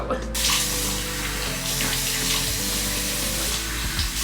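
A bathroom sink tap runs steadily while someone washes their face, a continuous close splashing stream of water over the basin that holds constant from start to finish.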